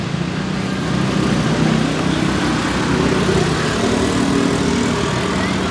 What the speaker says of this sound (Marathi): पंप लायला पंप दिसता पळय आतां पंप लायलेलो आहा